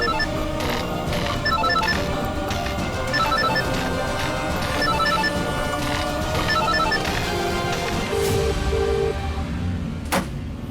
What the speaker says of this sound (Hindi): रिंग बज रही है।